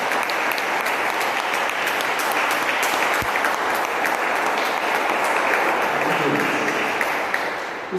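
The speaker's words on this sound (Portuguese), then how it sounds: "Os irmãos podem aplaudir o Senhor Jesus" A church congregation applauds during a Thursday worship service, dense steady clapping filling the room at an even level throughout, with no voices standing out above it.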